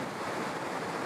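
Ocean surf during a session of overhead-sized waves being ridden, heard as a steady, loud wash of breaking water and spray with wind noise, continuous throughout with no voices.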